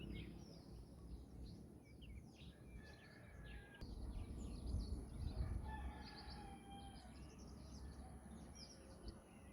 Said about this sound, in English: Did you catch all those beautiful sounds of the birds around?